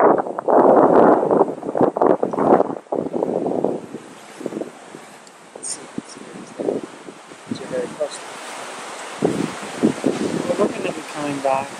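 Strong gusting wind at the front of a cruise ship buffets the microphone, loud at first then easing, with people talking intermittently underneath.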